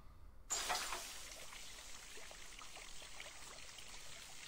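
Water poured in the School of Dragons game, a sudden splashy onset followed by a steady soft trickling stream, faint and even, with nothing else heard.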